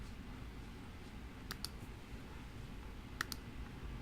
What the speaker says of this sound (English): as I'm typing in my user ID and my password